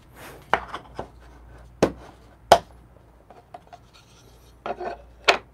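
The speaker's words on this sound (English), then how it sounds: "Okay, I'm just gonna shake it." Ground coffee being shaken in a blade grinder after grinding for espresso, giving a series of short, close rattling and rubbing bursts with gaps between them and no talk.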